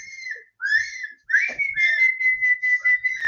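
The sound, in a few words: person whistling to call a cat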